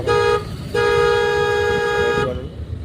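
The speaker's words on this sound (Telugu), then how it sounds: "హార్న్ కొడుతూ వెళ్ళండి" A car horn blares in traffic in two long sustained blasts, the first short and the second much longer, loud and close over a rumbling engine background.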